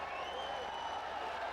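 A stadium crowd roars at an India v Pakistan hockey match in 2005, a dense, steady swell of cheering and noise that fills the whole moment, with a commentator's voice mixed in.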